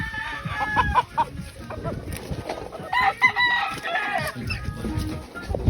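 A Bisaya rooster crows and clucks loudly and close by, with repeated calls and short clucks spread across the stretch and faint farmyard background between them.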